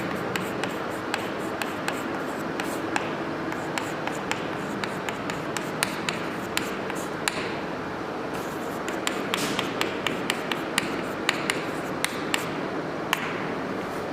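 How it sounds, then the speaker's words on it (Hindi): Chalk taps and scratches on a board during a geography lecture, a long run of small clicks and strokes at irregular intervals over a constant broadband room hiss, with no talking. "लिख ही देता हूँ।"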